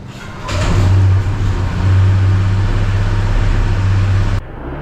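A motorcycle engine revving up loud and close, holding a steady low drone that swells and dips slightly over about four seconds before cutting off abruptly, with no one talking.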